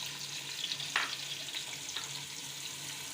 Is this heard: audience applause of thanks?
no